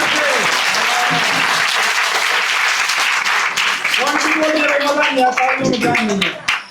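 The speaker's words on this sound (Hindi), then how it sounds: "भाई जोरदार ताली बजा देना।" Loud crowd applause at an Independence Day celebration in India, continuous clapping with voices and cheers rising over it in the second half.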